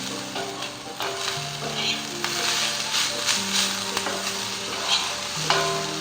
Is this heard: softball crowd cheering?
no